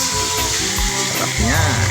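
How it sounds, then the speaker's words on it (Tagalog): Oil sizzles and crackles steadily as tilapia fries, a close, continuous hiss with a few louder spits toward the end. "Prito na tayo ng tilapia guys."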